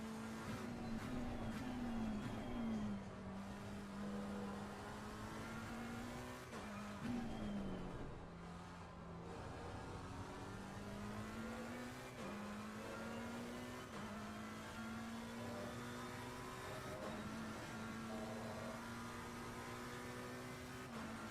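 McLaren race car in Assetto Corsa at Silverstone, its engine droning steadily with repeated rising revs and gear shifts, sustained and fairly quiet, no talking.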